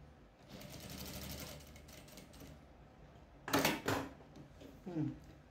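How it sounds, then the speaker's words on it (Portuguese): A sewing machine stitches fabric for a patchwork placemat, running steadily up close at first, then stopping for a few knocks and clatters as the fabric is handled, with someone speaking briefly. "E vamos costurar aqui."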